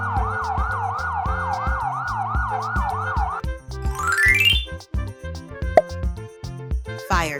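A police car siren wails in a rapid rising-and-falling cycle for a few seconds, set over bouncy background music and followed by other short sound effects.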